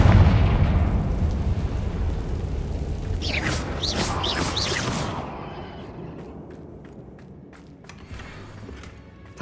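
A Confringo blasting spell explodes in Hogwarts Legacy with a loud, deep boom that rolls on for several seconds, crackling debris and bright bursts over it, then gradually dies away into quieter rumble.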